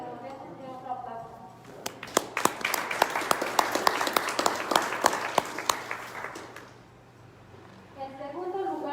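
Applause at a Spanish-language award ceremony for a comic, graphic-story and graphic-novel competition: an audience claps sharply for several seconds, with spoken voices before it starts and again after it fades.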